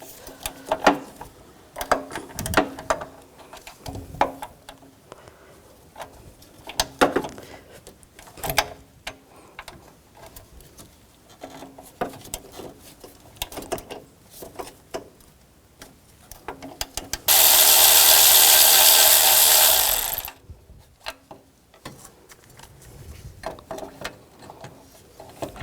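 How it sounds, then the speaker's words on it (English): A 12mm socket ratchet loosening two bracket bolts inside the radiator and condenser fan assembly of a 2004-2009 Toyota Prius, with scattered close mechanical clicks and rubbing, then a brief harsh hiss burst near the end. "Using a 12mm socket, take the 2 bolts out on the inside of this bracket."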